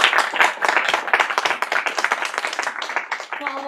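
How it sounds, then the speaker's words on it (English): A room of people clapping for three student producers of a sixth-form show, brisk irregular claps close by, loud and lively, with a voice briefly heard near the end. "Please give a round of applause for our three producers."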